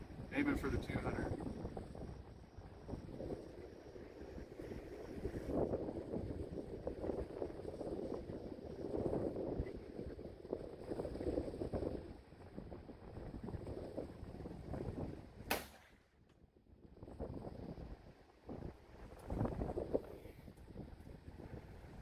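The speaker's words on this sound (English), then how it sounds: "Man, it's windy as shit." Strong outdoor wind buffets the microphone, making a low, uneven rumble that swells and eases throughout, with someone talking over it and one sharp crack near the end.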